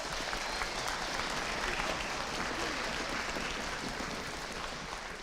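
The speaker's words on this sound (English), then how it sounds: "let's give a round of applause to our percussion section" Applause from a school concert audience for a beginning band's percussion section, a steady, moderately distant wash of clapping that holds evenly throughout.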